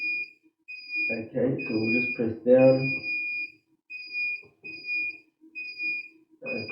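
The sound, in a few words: alarm of an S1 Advanced Aussie Brooder incubator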